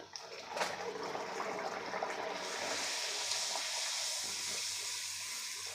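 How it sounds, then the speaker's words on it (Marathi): A Marathi home kitchen puri deep-frying in hot oil, a steady broad bubbling hiss that carries on without a break for the whole stretch, with no talk over it. "आता ही काढून घेऊ आणि तुम्हाला मी अजून एक पुरी तळून दाखवणार आहे."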